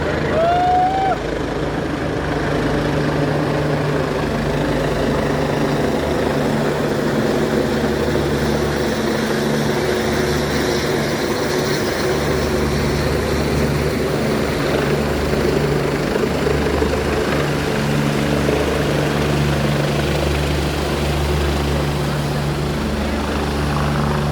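A helicopter's steady rotor thrum and engine whine hold throughout, loud and continuous, with faint voices beneath the drone.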